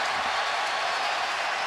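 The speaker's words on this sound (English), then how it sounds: "Every time you talk, the crowd goes crazy" A stadium crowd at a college football bowl game between Oregon State and Boise State, the 2013 Hawaii Bowl, roars in a loud, steady, broadband wash of cheering and applause with no break.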